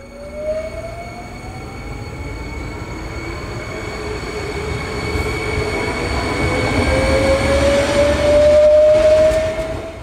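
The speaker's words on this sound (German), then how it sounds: "Zurück zu unserem Wasserstoffzug." A hydrogen train runs along a line on the Swabian Jura, its steady rolling rumble building louder near the end, with thin high wheel squeals and tonal whines riding over the rumble.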